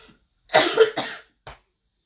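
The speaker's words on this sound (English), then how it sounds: "I'm just going to have a really big cough and try and stop this." A few harsh coughs, close and loud, come in a quick burst followed by a short single cough after a pause.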